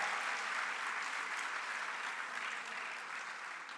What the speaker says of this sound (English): Let's give another round of applause for Genesis and the future of our community